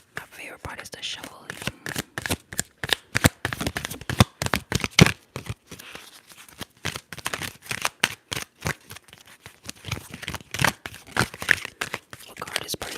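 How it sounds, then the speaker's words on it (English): Tarot oracle cards are shuffled close to the microphone in ASMR style, with repeated crisp riffling and flicking bursts in an irregular rhythm, soft and intimate, mingled with faint whispering. "My favorite part is the shuffling."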